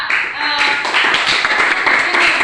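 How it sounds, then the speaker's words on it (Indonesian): A classroom of students claps together, a brisk burst of overlapping hand claps with some voices mixed in, close and fairly loud for a couple of seconds. "Tepuk tangan untuk kita."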